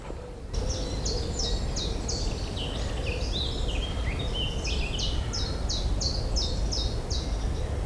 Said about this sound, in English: We'll stop and listen to the bird song.